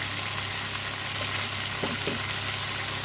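Spices frying in a pan with salt, turmeric and chilli powder for a Bengali aloo paneer curry, a steady close sizzle with a few soft stirring scrapes and no voices.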